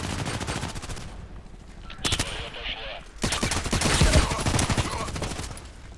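Rapid gunfire from the shooter game Contract Wars, bursts of automatic shots crackling in dense runs with brief pauses, loud and close throughout.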